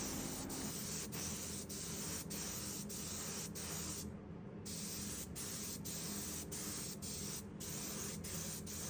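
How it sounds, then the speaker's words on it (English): Spray gun running thinners through for cleaning between coats of gold pigment, a steady, loud, continuous hiss of spray that carries on with only brief dips and no talking. "Now I'm cleaning the gun in between each one, just running some thinners through it"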